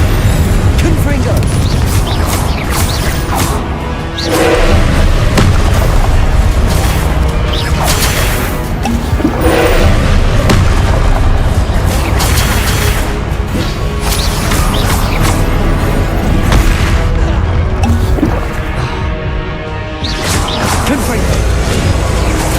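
Confringo blasting spells explode repeatedly in Hogwarts Legacy, loud crashing booms and whooshes layered over a constant, dense game soundscape for over twenty seconds with brief dips between bursts.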